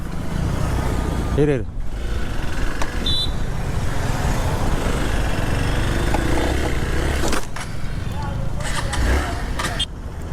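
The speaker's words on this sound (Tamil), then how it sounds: "4வது கீர்லேயே கதற விடுறேன், அதனால தான் வண்டி ஆஃப் ஆகிக்குது" A motor vehicle engine strained hard in fourth gear, a steady loud drone running almost throughout, with a brief voice and a few quieter gaps near the end.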